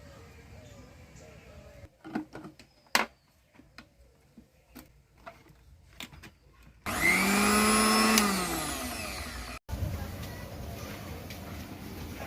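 Electric blender whirs steadily for a few seconds while grinding ginger and garlic into paste for a picnic meal, a loud sustained motor burst that winds down, set among scattered clatter and soft background noise.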